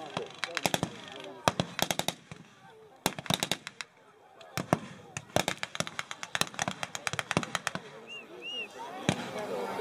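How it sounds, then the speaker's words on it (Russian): Dense rifle volleys and rapid machine-gun bursts ring out close by at a 2016 Gumbinnen battle reenactment, with shouting voices and brief whistle tones mixed into the sharp cracks. "Вот вы слышите, что кроме криков и выстрелов на поле боя слышны свистки."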